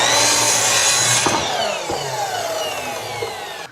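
A power saw cutting wood pieces for spatulas gives a loud whining buzz that gradually spins down, with a couple of knocks as the blade winds down.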